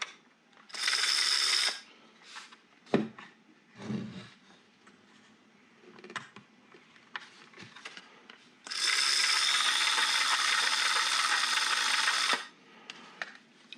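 A wind-up coat hanger automaton with a cam that lifts a part up and down, making close mechanical clicks and rattles with two long, loud whirring runs of the mechanism.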